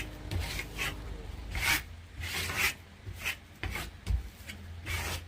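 A tool scrapes across plaster on a wall to polish it, a series of rough rasping strokes repeating in an uneven rhythm, close and fairly quiet.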